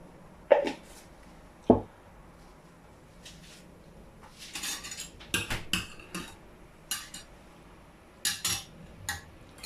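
Manfredi pasta with ricotta, ragù and grated parmesan stirred in a pan, sparse metallic clinks and scrapes of a utensil against the pan, some sharp and isolated, others in short clusters, close over a quiet background.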